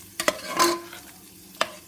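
Hot tempering poured into cooked dal and stirred together, giving a few brief sizzling bursts and clinks near the start, a louder hiss in the middle, then one more short clatter after a quiet stretch.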